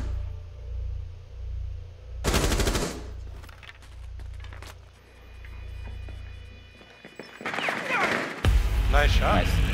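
Automatic gunfire in Rainbow Six Siege during a bomb match on the Skyscraper map, a sharp burst followed by scattered shots, then more loud firing near the end over low game rumble.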